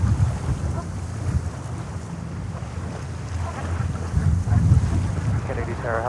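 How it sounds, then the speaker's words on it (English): Strong wind gusts buffet the microphone outdoors at JFK Airport in New York, giving a heavy, continuous low rumble that swells and eases throughout. "Sorry for the wind gusts, they are horrible."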